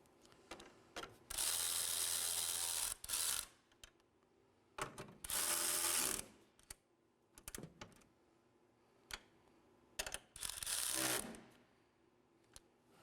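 A hand ratchet snugs down the battery hold-down bolts on a 2018-2024 Chevrolet Equinox, giving close, loud bursts of rapid clicking that stop and restart several times across the clip, separated by brief quiet gaps.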